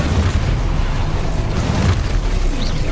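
A Confringo spell explodes in Hogwarts Legacy with a loud, rumbling burst of low booms that carries on as a dense roar across a few seconds.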